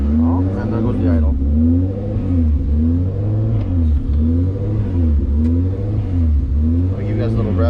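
A car with a custom exhaust idles loudly up close, its engine note rising and falling in repeated surging waves as the idle climbs.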